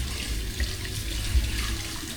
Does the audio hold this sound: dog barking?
no